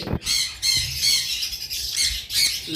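A pair of high-mutation lovebirds squawking, a run of harsh, shrill calls in quick bursts, close by and loud.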